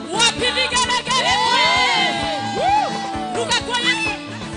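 A church congregation at a Kikuyu service ululating: many high trilling voices rising and overlapping together, loud and close, with crowd cheering underneath.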